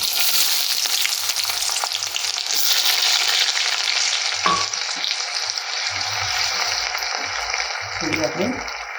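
Chopped onion frying in hot oil with popped mustard seeds and urad dal for tomato poha; a dense, even sizzle runs throughout, close and loud, with a few faint clinks and low bumps.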